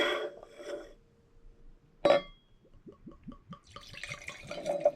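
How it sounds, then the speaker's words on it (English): Wine poured into a glass: a brief clink at the start, then a run of soft, rhythmic glugging splashes from the bottle, close and clear with no talk. "let's just pour it and take a couple sips of it"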